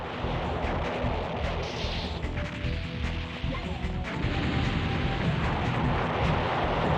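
Explosions in the PlayStation game Silent Bomber: dense, continuous crashing blasts and rumbling debris layered over one another, loud and close, with a few sharper impacts cutting through the steady roar.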